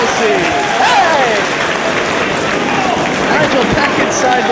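Wrestling crowd in Detroit cheering for Double C, a dense, sustained roar of applause and shouting voices filling the arena at steady loudness throughout, with a few louder yells rising above the din.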